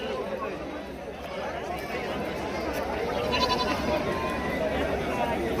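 Punjab Beetal goats bleating at a busy livestock market, their calls mixed into steady crowd chatter and nearby talking throughout.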